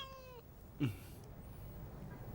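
A single short meow from a cat, faint against quiet room noise.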